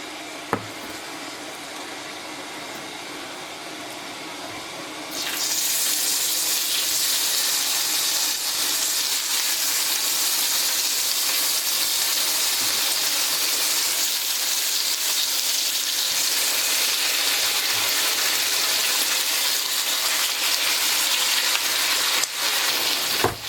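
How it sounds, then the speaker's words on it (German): Steady hiss of a boiling pot that grows louder and fuller partway through, a continuous bubbling, steamy roar with occasional small clicks, no talking. "wenn das Wasser kocht"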